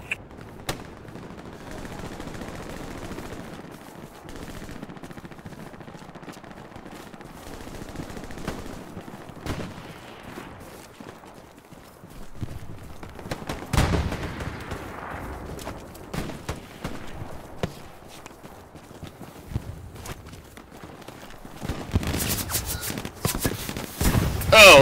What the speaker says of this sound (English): They got a fucking machine gun watching that gap in the fence.